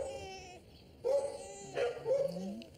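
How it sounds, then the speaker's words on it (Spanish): A dog gives a few short, whining barks and yips, up close and moderately loud, with brief pauses between them. "Ese ruido es un perro."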